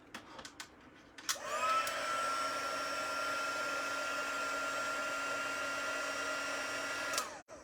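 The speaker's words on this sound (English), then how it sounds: "we're going to heat emboss that after I put the lid on this" Heat embossing tool blowing hot air in a stamping craft class, switching on after a few handling clicks and holding a steady, close whirring hiss for several seconds before cutting off.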